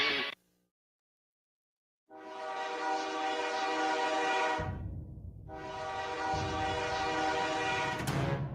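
Two long, loud blasts of a railway train horn, the first lasting about two and a half seconds and the second about three, with a brief gap of rumbling between them and no talk.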